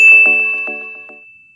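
A bright notification bell dings once, loud and clean, its tone ringing out and fading away over about a second and a half with nothing else around it.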